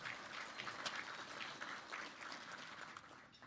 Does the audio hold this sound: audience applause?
yes